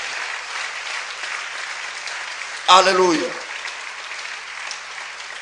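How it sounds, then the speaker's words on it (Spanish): A church congregation applauds steadily in a continuous broadband wash of clapping, and partway through a single voice loudly exclaims over it before the applause carries on evenly to the end. "¿Quién da un aplauso a Cristo, hermano?"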